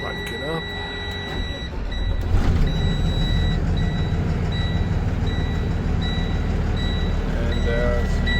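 A 2013 Freightliner M moving truck with an extended cab cranks over from inside the cab, catching about two seconds in and settling into a steady, loud low diesel idle, with faint repeating electronic beeps over it.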